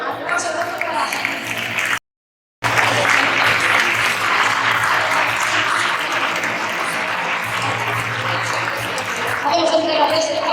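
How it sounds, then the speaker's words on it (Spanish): A crowd applauds at a sports awards gala, broad continuous clapping that holds steady for several seconds with a brief cut partway through, voices and music mixed faintly underneath. "Aplauso doble para ela."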